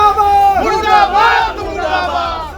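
Supporters of Rohini Acharya chant slogans in unison outside Lalu Yadav's residence, a loud, close crowd of raised voices rising and falling in a rhythmic call.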